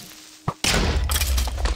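Creeper explosions in the Minecraft modpack Blightfall: a small thud, then a sudden loud blast that rolls on as a dense, rumbling burst close by.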